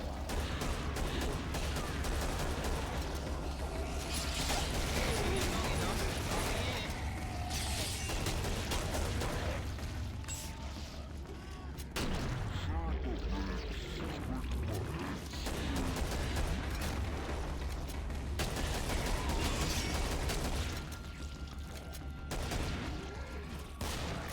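A weapon in Killing Floor (retail) fires rapidly in loud, dense bursts that run almost nonstop, mixed with mechanical clatter and crashing impacts, with one brief lull partway through.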